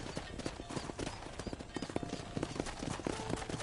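Horse hooves clip-clop in Red Dead Redemption, a quick run of hoofbeats mixed with busy game ambience and a steady background noise.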